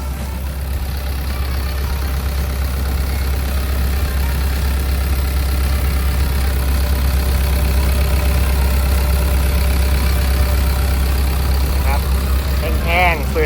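A Kobelco SK135SR-2 excavator's diesel engine idles loudly and close by, a steady low rumble that holds even throughout.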